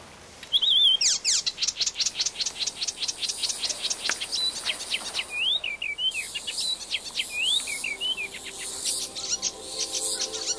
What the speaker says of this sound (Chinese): 像我们珠海小鸟啊这种动物应该也挺多